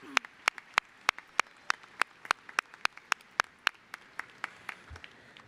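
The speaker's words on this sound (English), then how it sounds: "A round of applause for Regent Chris Peterson." Sparse, evenly spaced claps ring out at a university commencement ceremony as Regent Chris Peterson is applauded, a few distinct hands striking in a regular rhythm against a quiet hall.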